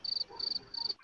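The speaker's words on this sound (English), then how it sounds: "Crickets." Crickets chirp in three quick, regular bursts of high, shrill trills, faint and alone with nothing else around them.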